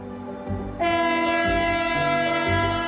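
A train roars past a nearly deserted station in Torre del Bierzo, Spain, on the line between Galicia and the meseta, sounding its horn loudly and steadily as the rumble of the cars rolls through at speed.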